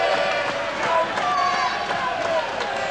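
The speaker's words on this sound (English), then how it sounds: "Crowd trying to lift their man." A boxing crowd roars steadily at a bout between Georgie Smith and Anthony Campbell, a loud, continuous wall of cheering and shouting with ringside commentary talking over it.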